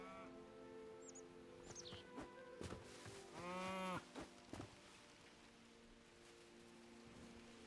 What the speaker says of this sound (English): Used to milk cows, it says I can.